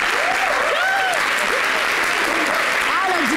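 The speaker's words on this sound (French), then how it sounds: "Applaudissez." Studio audience at a French-language TV talk show applauding steadily and loudly throughout, with faint whooping voices rising above the clapping.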